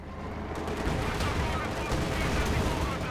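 Pak 40 anti-tank gun and Panzer IV tank fire in Company of Heroes 2, a dense, loud, continuous barrage of gunfire and blasts with no pause over a few seconds.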